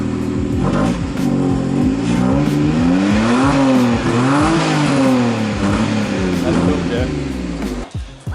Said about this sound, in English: we've got Joey's blast pipes tacked in place. The exhaust, he's going to give it a dose